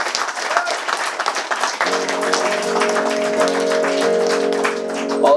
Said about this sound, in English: Could you all give a quick round of applause for the winter passing as well there?